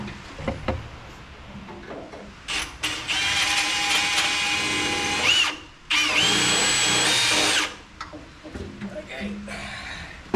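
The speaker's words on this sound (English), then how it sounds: "We got to drill and tap it." A power drill bores out a hole for tapping a grease fitting on a WoodMizer EG 100 edger. It whines loudly and close in two long sustained bursts separated by a short pause, with lighter mechanical rattles and handling noise before and after.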